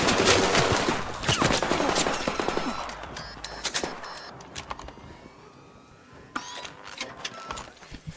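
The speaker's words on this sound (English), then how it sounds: "That was a player shooting me with probably just like a stitcher or something" Rapid automatic gunfire from a Stitcher gun in the video game ARC Raiders, dense bursts of shots in the first few seconds, then thinner scattered cracks and impacts later, loud and close at first, easing off toward the end.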